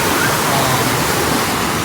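A waterfall pours in a steady, dense roar, loud and close, with no pauses.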